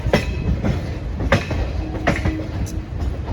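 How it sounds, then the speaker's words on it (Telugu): Simhadri Express, train 17240, rolling into Vijayawada railway station with rhythmic clickety-clack wheel thumps over rail joints and a brief metallic squeal, loud and close from on board. "అంతకన్నా ముందే వెళ్ళిపోతున్నాం విజయవాడ రైల్వే స్టేషన్ లోపలికి"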